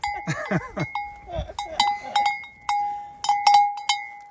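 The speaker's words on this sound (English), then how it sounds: "some seriously crazy sheep who joined us while we had a final rest" Several bleating sheep close by, with a clanking bell ringing repeatedly through the bleats.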